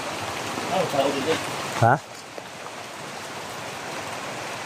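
Heavy rain pours during a flood around a house, a steady broadband hiss that runs throughout, with someone speaking briefly over it.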